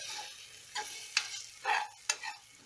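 Ginger garlic paste fries in a pan for ghee rice and is stirred with a spoon, giving several irregular scraping strokes over a faint, quiet sizzle.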